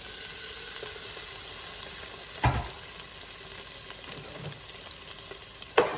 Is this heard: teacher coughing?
no